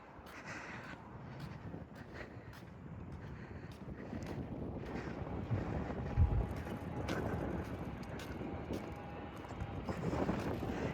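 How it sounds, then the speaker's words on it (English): Strong wind buffets the microphone at a housing development construction site, a continuous loud roaring rumble with gusty swells and scattered faint clatter throughout. "it's really windy today"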